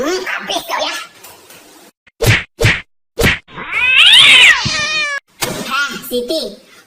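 A house cat meows in a comedy sketch, a drawn-out rising and falling cry after a few sharp thwacks, with people talking loudly before and after it.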